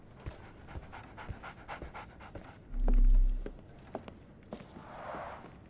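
A dog pants in a video game: quick rhythmic breaths close by, with soft footsteps and light clicks around them and a low tonal swell midway.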